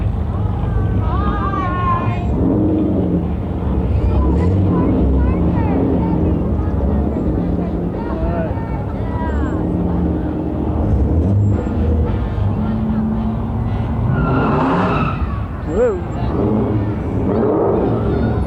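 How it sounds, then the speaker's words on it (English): A loud, throaty Dodge Challenger engine rumbles steadily through a noisy outdoor parade crowd, with chatter and other vehicles around. "Nice and loud. It's a Dodge Challenger."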